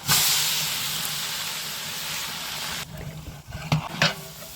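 Chilies, curry leaves and onions dropped into hot oil for biryani give off a loud, close sizzling hiss that gradually settles, followed by a few clatters of stirring.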